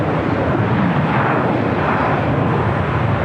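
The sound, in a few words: China Airlines A350-900 jet rolling for takeoff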